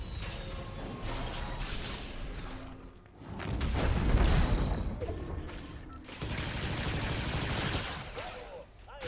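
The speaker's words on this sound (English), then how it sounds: "A headshot, demonstrating some skill with your blaster, Mandalorian warrior." Blaster fire from a Fortnite match: rapid bursts of shots and booms crowd a busy battle soundscape, swelling into a heavier volley midway, with whooshes and a voice murmuring underneath.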